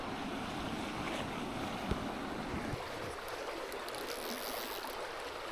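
A small trout stream flows steadily nearby with a constant broadband rush of running water, mixed with some wind buffeting against the microphone.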